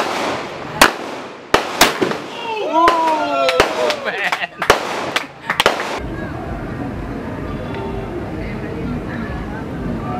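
A shotgun fired outdoors, several sharp loud blasts spaced irregularly over the first few seconds, with people talking and reacting between shots, then only quieter background chatter and ambient noise.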